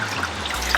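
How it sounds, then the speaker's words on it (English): Water trickles and splashes softly and steadily as a foam air filter is dunked and rinsed to wash cleaner out of it, heard close with no talking. "all I'm going to do is submerge it in water and get as much of the cleaner off the air filter as possible"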